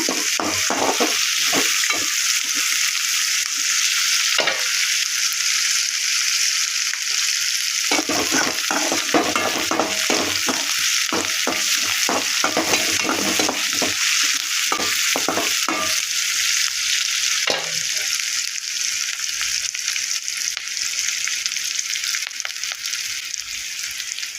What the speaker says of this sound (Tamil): தாராளமாக கொஞ்சம் எண்ணெய் விட்டுக்கிங்க ஏன்னா நம்ம வந்து சிக்கன் கொஞ்சம் அதில் பெறடணும்